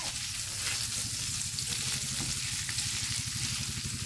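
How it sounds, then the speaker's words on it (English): Kielbasa sausage sizzles in a frying pan with a steady, close crackle and spitting fat that runs continuously without any talking. "Look at all that sausage cooking"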